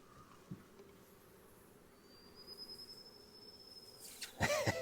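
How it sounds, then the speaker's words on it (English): Honey bees buzz around a beehive during a swarm. The drone is faint, low and steady, with a higher whine rising partway through, and handling noise near the end. "there's a lot of bees on that side"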